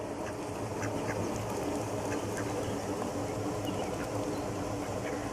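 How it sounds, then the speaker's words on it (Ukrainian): Ducks quack repeatedly in a busy outdoor scene at the Oleksandriia arboretum park in Bila Tserkva, among swans and pigeons, the calls scattered over steady background noise and bustle. "Качки бігають."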